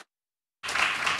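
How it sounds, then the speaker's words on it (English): Dense audience applause for a talk's speaker at an industry week event, bursting in abruptly after about half a second of silence and holding steady, moderately loud and close. "if we can just give Sophia a round of applause for coming"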